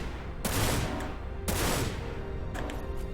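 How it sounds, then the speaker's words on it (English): Three loud, close gunshots in a video game, each a sharp blast with a long decaying tail, spaced about a second apart with no talk. "Did I hear somebody else shooting?"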